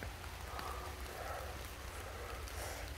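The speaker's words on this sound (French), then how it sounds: "La pluie repart de plus belle" Rain falls in a forest during a mushroom hunt for trumpet chanterelles and girolles, a steady, dense hiss of drops pattering on leaves and ground, fairly soft and unbroken, with no voices.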